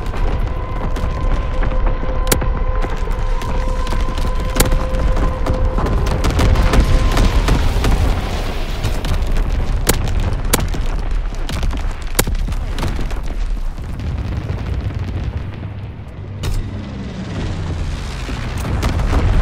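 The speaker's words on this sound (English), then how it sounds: "Firing primary battery." Artillery battery salvos and bombing-run explosions in a video game: a dense, loud barrage of booms and sharp blasts that rolls on without a break for about twenty seconds.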